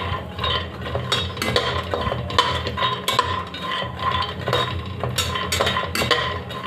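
White sesame seeds and peanuts dry-roast in a very hot kadhai, with a spatula scraping and clinking against the metal in a quick, continuous stirring rhythm.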